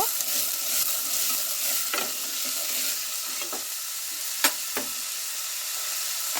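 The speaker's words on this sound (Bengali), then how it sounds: "এবার আমি আলুগুলো ভালো করে তেলের মধ্যে কষিয়ে ভাজা ভাজা করে নেব।" Potatoes stir-fried in sizzling oil, with a constant crackling hiss broken by a few sharp scrapes and clicks of a spatula against the pan.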